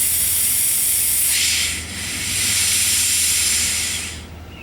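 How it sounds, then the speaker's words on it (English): Compressed CO2 from a paintball cylinder hisses loudly through a copper gas line being purged, a strong steady burst that dips briefly, surges again, then trails off. "So I'm purging the line with CO2 from the paintball cylinder."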